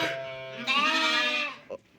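Lambs on a Turkish farm with kangal dogs bleat up close, one long wavering cry followed by a short, fainter call, loud and clear with no talk.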